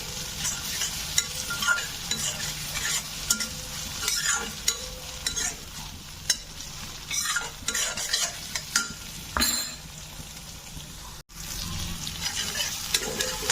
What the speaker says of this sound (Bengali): দেখো আমার টমেটো পেস্টটা খুব ভালো করে আমি বাটারের সাথে কষিয়ে নিলাম।